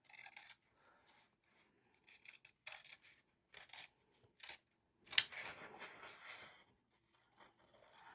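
Scissors snip through a paper planner page with stickers laid on it, giving a few short, quiet crisp cuts spread out with pauses, plus one louder slicing rasp in the middle.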